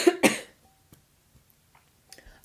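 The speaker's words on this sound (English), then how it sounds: "I'm sorry about the coughing, but it came on suddenly" Two sudden, loud coughs burst out at the very start from a woman reading tarot cards, then give way to near silence broken only by faint small clicks and a soft throat noise near the end.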